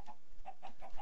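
Chickens on a video game chicken farm give short clucks, four or five brief calls in quick succession, fairly faint and with no talk.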